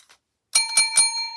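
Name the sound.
bell being rung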